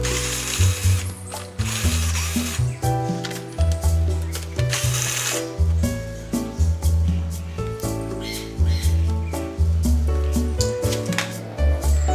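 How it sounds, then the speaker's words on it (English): Power tool loosening and removing two bolts from a front cover, running in loud bursts with short pauses between them, a whirring mechanical drive close up with no talking. "Get these two bolts out."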